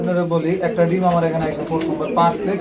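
A newly paired female pigeon coos in soft, repeated throaty rolls close by, with a voice speaking over it.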